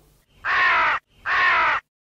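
A crow caws twice, loud and close, each harsh call lasting about half a second with a short pause between, alone without talk.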